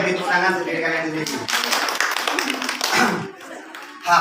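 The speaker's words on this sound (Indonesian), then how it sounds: "beri tepuk tangan untuk diri kalian sendiri" Students in a classroom role-play lesson give a short burst of hand clapping, close and uneven, mixed with chatter and voices throughout.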